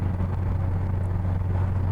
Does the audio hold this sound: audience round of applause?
no